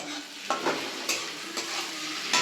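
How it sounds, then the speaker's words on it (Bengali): Chopped tomatoes are added to onions frying in a pan for homemade biryani and fall into a steady sizzle. A spoon stirs them with several distinct scraping strokes spread across the few seconds. "টমেটোটা পেঁয়াজের মধ্যে দিয়ে দেওয়া হচ্ছে বন্ধুরা"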